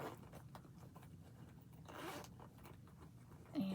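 A zipper on a caramel brown bag is slowly opened, giving a faint, close rasping scrape that runs for several seconds, with a small clicking catch right at the end.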